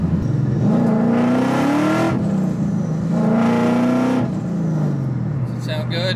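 A car engine revs up and back down twice in long rising sweeps, then settles toward idle, heard from inside the cabin with the windows down; a loud, close drone with a brief rattle near the end.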